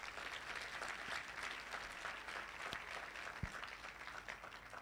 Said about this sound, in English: Would we celebrate these dear ones with a big clap?